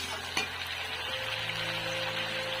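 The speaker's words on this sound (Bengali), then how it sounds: "এবার আমি দিয়ে দিচ্ছি এখানে জল।" Water poured into a hot pan while making chilli chicken, a sharp utensil knock followed by a steady hissing sizzle and bubbling that continues evenly throughout, with no voices.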